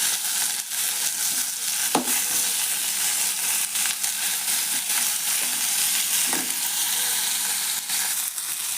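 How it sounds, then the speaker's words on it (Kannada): Garlic and ginger fry in hot oil in a pan with a loud, dense, steady sizzle, punctuated by a couple of brief spoon knocks, close and without voices. "ಆಮೇಲೆ ಬೆಳ್ಳುಳ್ಳಿ ಹಾಕ್ತೀನಿ ಇದ್ರಾಗ ಫ್ರೈ ಆಗಲಿ ನೋಡಿರಿ ಒಂದು ಸ್ವಲ್ಪ ಶುಂಠಿನೂ ಹಾಕ್ತೀನಿ ಇದ್ರಾಗ ಎಲ್ಲ ಫ್ರೈ ಆಗಲಿ"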